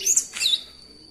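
A caged pet songbird out for its morning sunning gives a quick pair of bright, high chirps, close and clear, then fades into quiet hiss.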